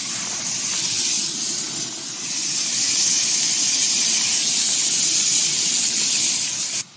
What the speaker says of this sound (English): I mean, that's a pretty good sear.